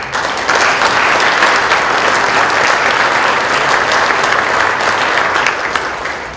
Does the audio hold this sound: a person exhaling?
no